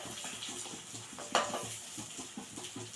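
Small shallots go into hot oil for a Kerala dried-fish roast, giving a soft continuous sizzle with light stirring scrapes and one sharper clack midway, heard fairly quietly.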